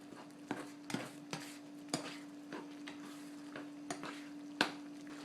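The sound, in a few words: stirring homemade taco seasoning into meat in pan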